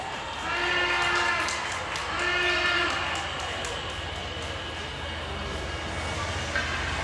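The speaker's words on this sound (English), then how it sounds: "I think I hear the train coming now." Train sound played in an ice hockey arena before a U15 island final game: a steady, loud rumble with sustained horn-like tones swelling twice early on, over faint crowd murmur.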